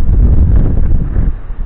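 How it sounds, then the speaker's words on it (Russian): Strong wind buffets the microphone in a loud, rumbling roar outdoors in a field, steady and close, with no voices. "ветер"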